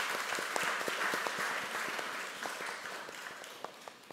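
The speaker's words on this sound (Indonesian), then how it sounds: "Maka mari kita sambut mereka dan kita berikan aplaus." Audience in a church applauds to welcome a kulintang group, a moderate round of scattered hand claps with distinct individual claps standing out, gradually thinning toward the end.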